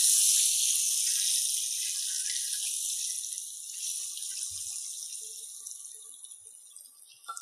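A glass of water is poured into a cooking pan holding spices, ginger-chili paste and garlic for Gujarati rasiya muthiya, giving a steady, close hissing pour that slowly fades over several seconds.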